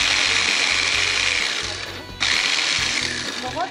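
A vegetable chopper minces onions with a loud, close mechanical whirr that runs, dips briefly and then starts again.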